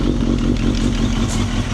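A 2002 Suzuki GSXR1000 K1 with a Yoshimura Tri Oval exhaust runs close by, a steady deep engine rumble with slight fluctuations for a short stretch and no talk over it.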